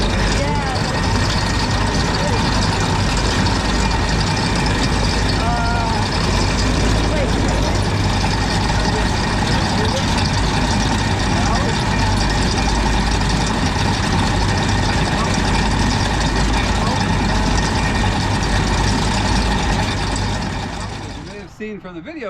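An old Allis Chalmers Gleaner G combine engine runs in a loud, steady low rumble close by, a talking voice partly over it, then the sound drops away near the end.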